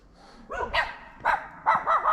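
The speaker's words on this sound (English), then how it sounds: "it's nice content to see a barking dog" A small dog barks repeatedly outdoors while trying to chase someone off, four or five sharp, fairly close barks in uneven bursts with no talk over them.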